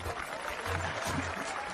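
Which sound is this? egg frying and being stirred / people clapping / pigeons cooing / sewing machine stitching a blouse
people clapping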